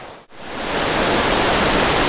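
Waterfall beside a river where trout and chub are fished: after a brief dip, a loud, dense, steady roar of falling water swells and holds to the end.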